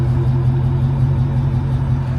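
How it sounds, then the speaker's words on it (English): A Chrysler 300C with a 6.4 HEMI V8, no muffler delete, idles with a steady, deep exhaust rumble, close and continuous throughout. "This is without a muffler, delete, or anything. It still has a little rumble."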